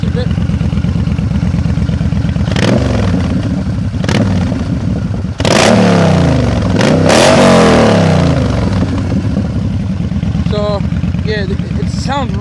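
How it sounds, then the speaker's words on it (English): Yamaha Stryker motorcycle with baffled exhaust pipes, engine idling close with a deep throb, then several sharp revs climbing and falling, a voice speaking over it. "I'm going to rev it a bit."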